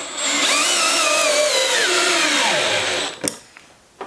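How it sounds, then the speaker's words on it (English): A drill drives a screw with a Spax bit, its motor whining steadily and loud up close for about three seconds, the pitch sliding down as the screw seats, then a few clicks as it stops. "we'll drive one with the Spax just with the Spax bit"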